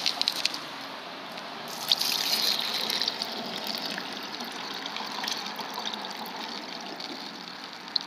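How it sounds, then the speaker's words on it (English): Water poured from a fast food cup into a homemade Lego fish pond, a steady close splashing and trickling that runs throughout with a few small drips and knocks. "adding the water to the bottom"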